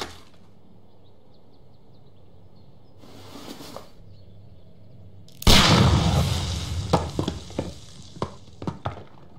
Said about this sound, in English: Fire at this package.